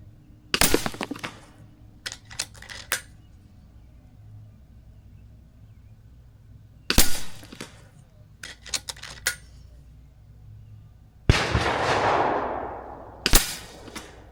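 An AGT Uragan 3 air rifle fires shots at a target, sharp loud cracks spaced irregularly with quiet gaps between, a burst of rushing noise after one shot, and no talking.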